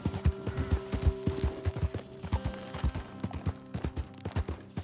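Horse hooves clip-clop in a steady, brisk rhythm within the video game Red Dead Redemption 2, quiet but distinct, with faint ambient sounds behind and no talk.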